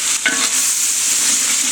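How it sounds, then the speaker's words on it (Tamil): Mutton being stirred in a pot over a wood fire for a forest-style tapioca mutton biryani, a close, steady scraping and sizzling that runs continuously with a brief louder stroke near the start. "மட்டனை போட்டுக்கிட்டு இருக்கோம் பாருங்கள். நல்லா கிண்டு. இப்போ கிண்டுறோம்"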